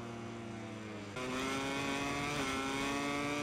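Close, harmonic whine of a racing motorcycle engine in MotoGP 22 at the US Grand Prix, jumping sharply louder and higher partway through and holding a high, steady rev, with a slight pitch shift near the end.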